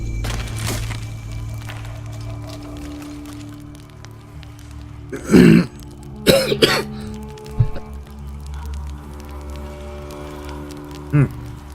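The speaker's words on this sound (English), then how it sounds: "my coughing is deciding to be a little more pestery" A person coughing several times in short, separate bursts, close to the microphone over a quiet game soundtrack, with the strongest fits spaced a second or two apart and a final lighter cough at the end.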